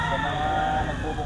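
An eight-month-old Red Kelso stag, a young gamecock rooster, crows briefly at a rainy outdoor stag-selling gathering, with a steady background murmur.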